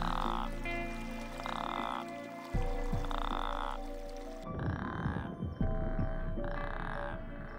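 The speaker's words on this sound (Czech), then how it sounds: "v noci to kolem potůčku ožívá voláním samců ropuch arabských" Male Arabian toads call at night beside a stream, giving long buzzing trills that repeat in a steady rhythm of bursts, close and clear over a low constant hum.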